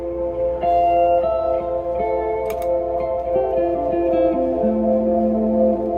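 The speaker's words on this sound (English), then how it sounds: "I have a reverb throw, so I can dial in lots of reverb really quickly" Electric guitar played through a rig with a reverb throw fader, sustained notes and a slow descending line blooming into long, washy echo tails that hang and overlap, played alone without talk.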